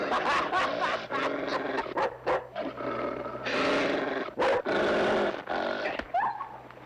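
A dog growls and snarls in a series of loud, close, rough bursts separated by short pauses, with a low steady hum underneath.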